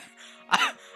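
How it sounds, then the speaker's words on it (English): A single short, harsh cough bursts out close to the microphone, throaty and rough, standing out sharply from a quiet, faintly humming background. "Sorry, I'm coughing too much."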